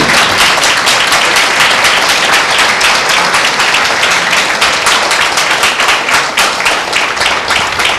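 Loud, dense clapping from a church congregation at a Tuesday prayer meeting, rapid and sustained without a break, filling the whole stretch with steady rhythmic hand claps.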